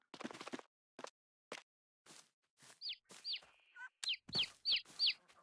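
Chickens and small chicks cluck and peep in the Farming Simulator 22 game, a run of short separate clucks followed by several high, sharp chirps in an irregular rhythm, clear and close against silence.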